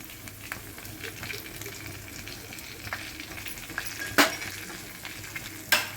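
Spices drop into hot oil while cooking dal palak, giving a steady close sizzle and frying hiss, with soft stirring and two sharp metallic clinks of a utensil against the pan.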